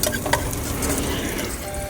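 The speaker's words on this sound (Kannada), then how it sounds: "ಇರೋದೊಂದೆರಡು ಮೊಟ್ಟೆ ಹೊಡೆದು ಹಾಕ್ಬಿಟ್ಟು" Eggs cracked into a hot pan sizzle and fry for egg pulao, a steady close crackle with a few sharp clinks of stirring near the start, no talking.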